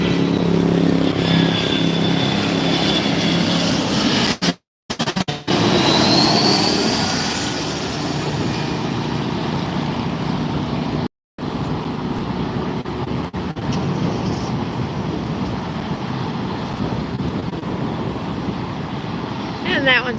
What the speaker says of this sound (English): So inbound is this Embraer 175 United Airlines flight 5615 coming in.